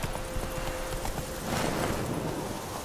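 In The Witcher 3 video game, a horse's hooves clip-clop at a steady walking rhythm. Wind hisses under the hoofbeats, and nobody speaks.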